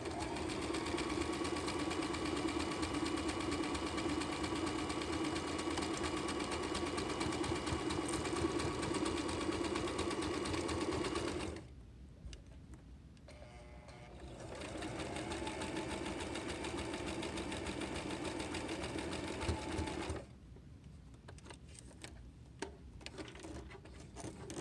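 A foot-pedal sewing machine stitches a buttonhole on a glasses case with a steady mechanical whir. It pauses briefly, runs again at a lower level, then stops.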